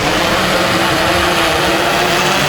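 A SwellPro Splash Drone 3 descends at full throttle, its propellers producing a loud, steady, close whine with a whooshing rush of air and no pauses.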